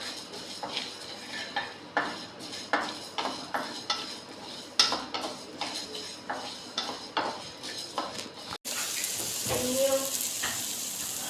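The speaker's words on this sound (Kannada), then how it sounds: "ಸ್ವಲ್ಪ ಜೀರಿಗೆ, ಮೆಂತೆ ಮತ್ತು ಕರಿಮೆಣಸು ಅಷ್ಟನ್ನು ಹಾಕಿ ಫ್ರೈ ಮಾಡುವ." Cumin, fenugreek and black pepper frying in a pan, heard as a run of rhythmic metal scrapes and clinks from a spoon stirring every half second or so, followed by a rising steady sizzle.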